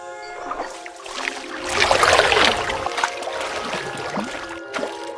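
Fish splashing water while leaping from a stream to find a leaf for laying eggs, a run of small splashes and trickles over steady flowing water, close and fairly loud.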